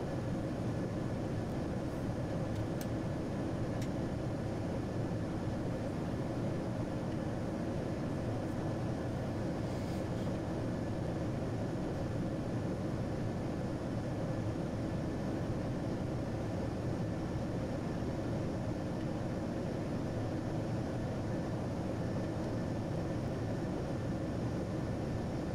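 Steady, loud broadband drone of a Boeing 737-800 cockpit in flight in a flight simulator, an unbroken engine and airflow roar with a faint high tone and a few soft clicks, no voices.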